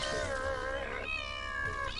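A cartoonish cat in LittleBigPlanet 3 gives a long, drawn-out meow followed by a second, higher meow, close and clear, with no talking.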